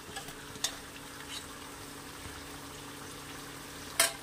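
Marinated chicken chap frying in a large kadai, a faint, steady sizzle with a couple of sharp spits and clicks, no voices.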